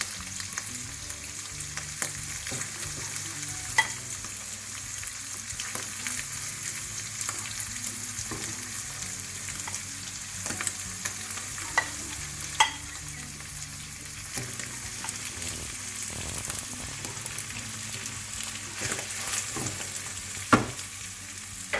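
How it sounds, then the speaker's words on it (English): Rice with prawns and tuna sizzles quietly in a pan, with a low continuous frying hiss and scattered scraping clinks of a utensil stirring and turning the mixture throughout. "now I'm gonna put rice in there."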